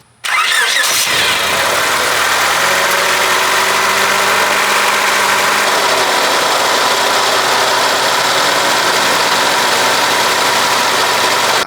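A Honda Civic engine cranks and catches, then settles into a steady, loud idle with the air-conditioning running, a continuous drone with a faint underlying whine and no talking.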